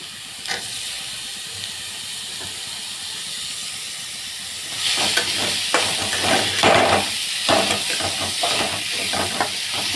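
Tomatoes sautéing in a pan for a home biryani: faint hiss at first, then a louder, denser sizzle with scraping stir strokes from about midway, close and without speech.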